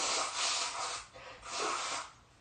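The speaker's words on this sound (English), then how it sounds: "Blow my nose really quick." A person blows their nose twice, two soft breathy honking bursts close to the mic, each lasting about half a second, with quiet gaps between them and no talking.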